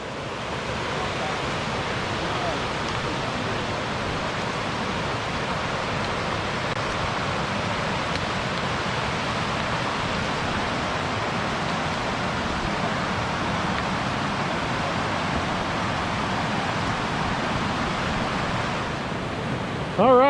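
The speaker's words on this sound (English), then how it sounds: "It feels like a remote mountain stream" Steady, continuous rush of a fast mountain stream tumbling over rocks, broadband and loud throughout, with no distinct voices standing out.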